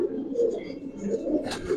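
A giribaz pigeon coos in low, continuous murmurs close by, with a brief sharp rustle near the end.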